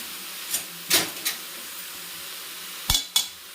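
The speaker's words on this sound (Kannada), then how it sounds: "ಇಲ್ಲಿ ಈ ಥರ ಚೆನ್ನಾಗಿ ತಿರುಗಿಸ್ಬಿಟ್ಟು ಎಣ್ಣೆಯಲ್ಲಿ ಫ್ರೈ ಆಗಬೇಕು" Soya chunks being stirred and fried in oil in a pan, with a handful of sharp metallic scrapes and clinks of a spoon against the pan over a faint steady sizzle, close and alone.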